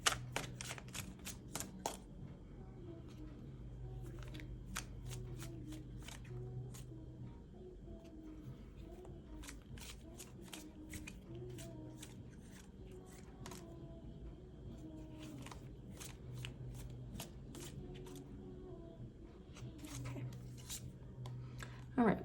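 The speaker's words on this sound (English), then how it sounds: "let's get a few more cards out, get a little deeper here" Tarot cards being shuffled and drawn during a pick-a-card reading, with soft, scattered clicks and snaps of card stock, sometimes in quick flurries, under a low steady hum.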